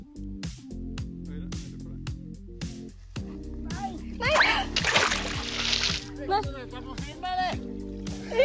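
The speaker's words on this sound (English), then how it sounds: "Man falls in water while fishing" A man falls into the water while fishing, with one loud, broad splash and sloshing at mid-clip. Steady music plays throughout, and short voices or effects come before and after the splash.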